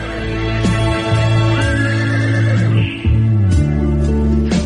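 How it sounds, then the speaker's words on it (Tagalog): A horse neighs in a long, loud whinny that rises and falls, set against steady sustained tones with no talking. "May kabayo?"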